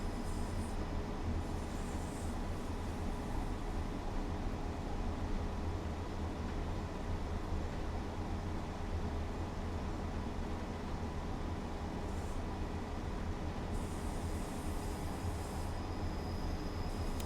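A Pacer diesel railcar rumbles steadily in Train Sim World 4 on the West Cornwall line, a constant droning engine and rolling noise with faint higher hiss, no voices.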